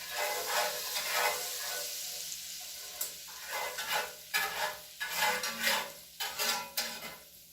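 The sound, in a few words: butter and oil sizzling in pan, scraping brown bits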